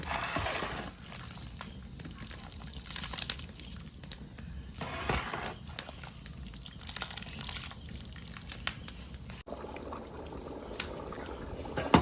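A special fish curry boils in a pot, giving a close, steady bubbling with scattered pops and small splashes that continue throughout.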